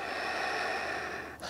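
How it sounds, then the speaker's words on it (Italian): A slow, steady inhalation through the nose during an intermediate yoga sun salutation, a soft continuous airy breath close by that ends with a brief sniff-like catch. "Inspiro."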